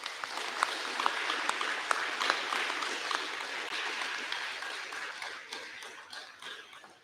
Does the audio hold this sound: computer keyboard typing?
no